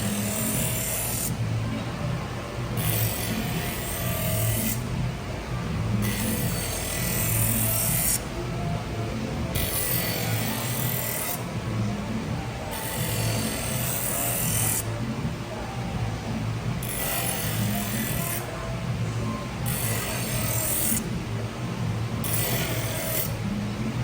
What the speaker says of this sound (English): Now we'll hit it on the honing wheel.